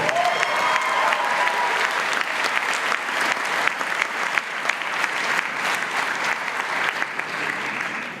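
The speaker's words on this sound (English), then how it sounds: "That deserves a round of applause too." A graduation ceremony crowd in Dubai claps steadily and loudly for several seconds, the applause holding full strength before tapering slightly at the end.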